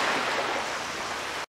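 Sea waves off Lamanok island crash and churn in a steady loud roar of surf and wind, continuous before cutting off abruptly.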